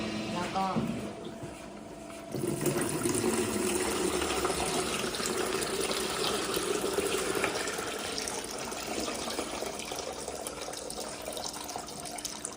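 Water churns and gushes steadily inside the bowl of an Italian-made Bravo pasteurizer ice cream machine as it spins to rinse, with someone talking over the continuous sloshing.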